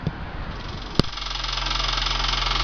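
A VW Pointer engine runs with a loud noise coming from the engine area, a close steady idle hum with a pulsing rattle, after a sharp click at startup.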